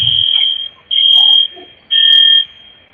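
An electronic alarm blares in loud, high-pitched beeps, three long tones separated by short pauses, close and dominant.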